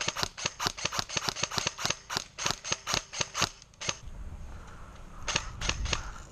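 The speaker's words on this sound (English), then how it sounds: "Shots on me." Rapid bursts of airsoft gunfire at an outdoor field match, a string of about a dozen sharp close-range cracks in quick rhythm, then a pause and a few more scattered shots.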